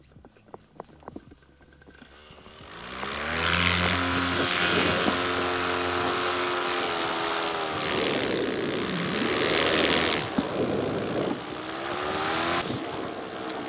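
A PAP Tinox paramotor engine revs up from idle after a few clicks and handling knocks, then holds a loud, droning propeller roar close by, with its pitch shifting slightly as the throttle changes.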